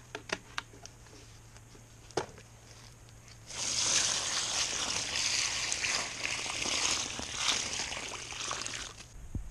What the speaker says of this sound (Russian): Заливаем ямочку водой.